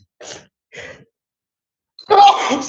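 A person sneezes during a courtroom bond hearing: two short breathy intakes followed by a louder, abrupt sneeze burst, close and otherwise surrounded by quiet.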